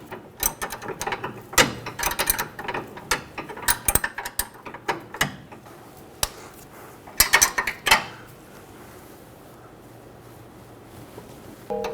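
A ratchet with a 15mm socket tightens the sway bar link nut on a 2003-2008 Honda Pilot. It gives bursts of close, crisp pawl clicks that stop after about eight seconds.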